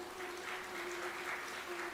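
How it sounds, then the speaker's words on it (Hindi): A man claps his hands approvingly during a Hindi spiritual discourse, producing a continuous patter of clapping over a steady low hum. "एक प्रभु जी ने बड़ी अच्छी ताली बजाई है।"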